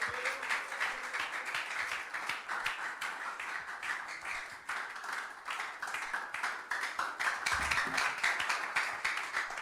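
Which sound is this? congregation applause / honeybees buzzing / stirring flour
congregation applause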